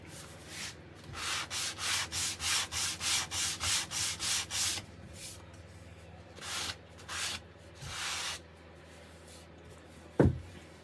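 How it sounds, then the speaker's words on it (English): Wood edges being lightly broken with sandpaper by hand: a run of about ten rapid, even rubbing strokes, then a pause and a few slower separate strokes, close and fairly quiet, ending with a short knock. "I am going to just break the edges as well slightly with a bit of sandpaper"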